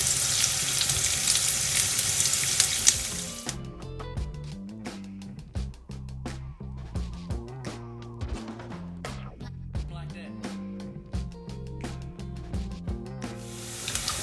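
Five or six curry leaves hit hot oil in a pan for an Anglo-Indian okra and tomato dish. A loud, close sizzle lasts about three seconds before music takes over for the rest.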